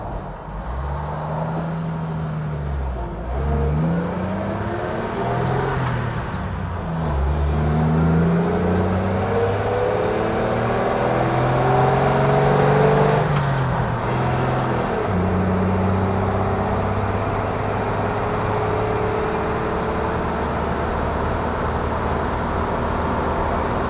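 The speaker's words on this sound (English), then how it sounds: "Starting to pop on decel a little bit?" Old Ford Bronco engine revving up and down on a dyno, its pitch rising and falling in long sweeps, loud and close, with faint pops as the revs drop.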